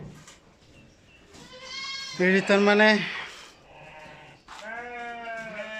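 Goats and sheep bleat in a farm pen among newborn kids, several wavering calls, one loud and close in the middle, others softer, while someone talks throughout.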